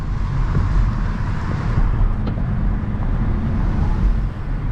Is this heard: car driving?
yes